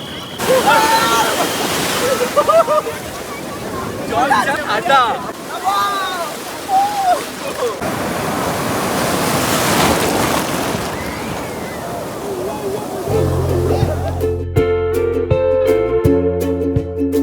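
Ocean waves at Puri beach roll and wash in repeatedly under people talking nearby, and music comes in toward the end.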